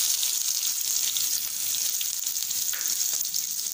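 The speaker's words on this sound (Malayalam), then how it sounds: "ഇനിയിപ്പോ കൊച്ചുള്ളി ഇളക്കി കൊടുക്കാം" Small shallots fry in hot oil with popped mustard seeds, giving a steady, close hiss of sizzling with faint stirring clicks and no voices.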